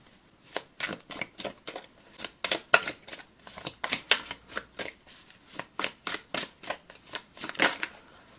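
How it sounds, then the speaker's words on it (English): Tarot cards are shuffled during a love reading, giving a close run of quick papery riffles and taps in an irregular but steady rhythm. There is no talk. "I'm gonna shuffle one more card"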